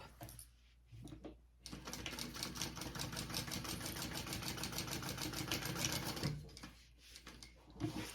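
A sewing machine runs quietly on a crossbody bag, a fast even whir of stitches lasting several seconds between brief pauses, close and low in level with no talk.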